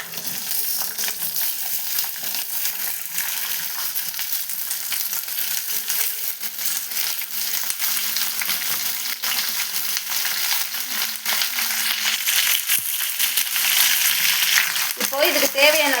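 Ivy gourd (kovakkai) hits hot oil already crackling with mustard seeds and curry leaves, raising a steady, close sizzle that grows louder and fuller toward the end, with light stirring clinks and no talking.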